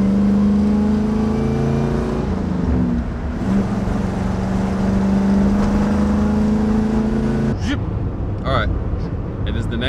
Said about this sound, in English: It has a flow masters on it. It's a stainless steel dual exhaust, so fits in really well with the 63 Impala here.